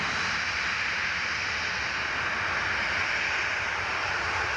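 An Emirates airliner at Newcastle International Airport gives off a steady hissing jet engine whine and roar, even and sustained throughout with no voices.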